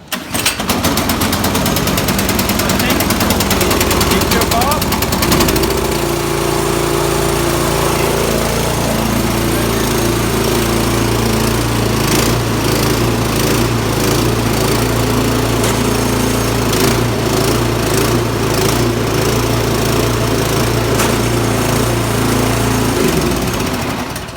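A Craftsman 21-inch snow blower engine fires up from a pull start and keeps running, a loud, close, rough motor roar with a steady pulsing drone.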